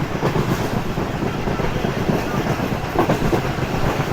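The Karakoram Express runs on the rails in winter, heard from inside an economy-class carriage as a continuous loud rumble with faint rhythmic clatter of wheels, steady throughout.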